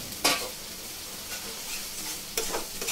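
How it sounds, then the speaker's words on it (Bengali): Dried fish cooks down with spices in a pan, a steady sizzle broken by two sharp stirring scrapes near the start and end, close and without voices. "এই পর্যায়ে আমি শুটকিগুলোকে মশলার সাথে দিয়ে একটু কষিয়ে নিব।"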